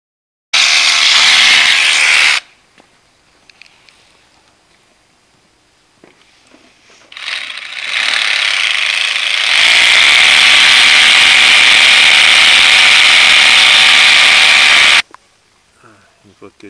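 A power drill with a 10 mm bit bores holes for lag screws while an above-ground shutter is mounted. There is a short loud burst of drilling, a quiet pause with light clatter, then a longer sustained whine of drilling up close.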